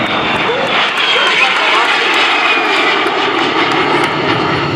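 Loud, steady aircraft engine roar sustained throughout as a plane makes a low pass at an air show in Dayton, broad and rushing with no break.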